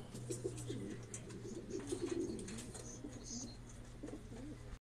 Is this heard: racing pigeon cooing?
yes